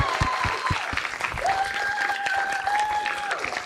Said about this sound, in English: please give another round of applause for our wonderful panelists